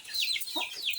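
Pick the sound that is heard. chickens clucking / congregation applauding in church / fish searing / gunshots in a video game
chickens clucking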